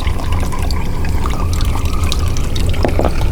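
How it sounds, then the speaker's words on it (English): Water runs out of an open plumbing pipe during a dry-fitted T repair, giving a steady close splashing pour with trickling and dribbling texture that continues throughout without speech. "Look at all that water still running out of there."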